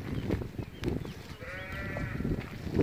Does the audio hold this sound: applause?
no